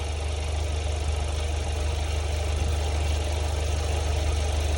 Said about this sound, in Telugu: ఇంజన్ ఆల్రెడీ 1-2 సార్లు యాంటీడాట్ చేసినందువల్ల స్లైట్లీ సౌండ్ డౌన్ అయింది